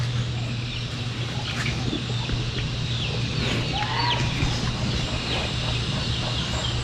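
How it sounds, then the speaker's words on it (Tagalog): Hens cluck intermittently amid a busy rural background in Nueva Vizcaya, with a constant low hum, occasional chirps and short calls scattered throughout. "Nangingitlog na naman yung manok niya guys."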